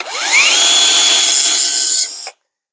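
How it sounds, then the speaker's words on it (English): A Ryobi PSD101B belt sander spins up on wood edges, giving a loud, close, steady whirring drone that holds for about two seconds and then cuts off abruptly, with no voices. "I use it to sand on the edges of wood."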